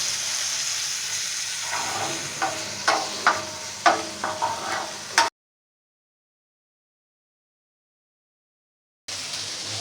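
Chopped tomatoes, red chili and green chilies with onions cook in a pan, a soft sizzle under a series of spoon scrapes and stirs, then a few seconds of dead silence before the frying hiss returns.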